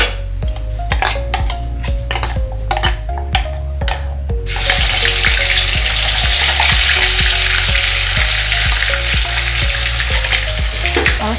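Masala paste is sautéed in hot oil with cumin, bay leaves, cinnamon and a clove for chole masala, starting with rhythmic clinks and scrapes of stirring before a loud, steady sizzle takes over as the paste hits the pan.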